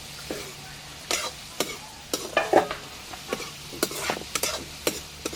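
Small snails fry in oil in a village kitchen, with a soft steady sizzle broken by repeated scraping and stirring clatters at irregular intervals.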